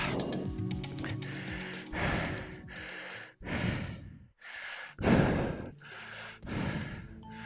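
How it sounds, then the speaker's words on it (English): Heavy, ragged breathing after a hard standing effort on a bicycle, a series of loud close gasping inhales and forceful exhales in an uneven rhythm, alone with no talk. "I pushed it quite hard, as you can hear in my breathing."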